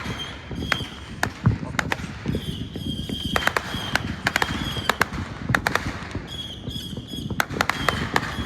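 Fireworks popping over a town at night, a series of sharp distant bangs and crackles scattered irregularly under steady background noise, with occasional voices nearby.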